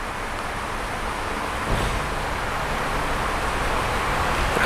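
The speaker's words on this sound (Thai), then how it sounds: "จะได้ยินเสียงแก๊สโฟล" Low-pressure gas flows with a steady, broadband hiss into the burner of an infrared brake pad curing oven, a constant rushing noise that barely changes and carries no talking.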